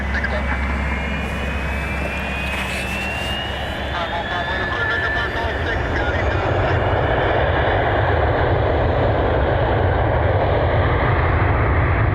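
A United Airlines Boeing 757-300 takes off from a Cleveland runway on a cold day, its engines giving a steady, loud, broad roar with a rising whine. The jet is heard from a distance and there is no talk.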